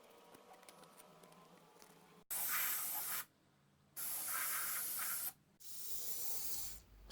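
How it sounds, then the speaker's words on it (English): Three bursts of WD-40 aerosol spray on a Yanmar cylinder head with a stuck injector hiss loudly and steadily, each lasting about a second, separated by short quiet pauses. "Spraying WD-40 now."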